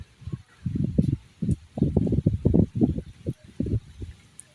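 Strong, cold winter wind in a Bangladeshi riverside village buffets close by in irregular low, rumbling gusts, each surging and dropping away within a second or so.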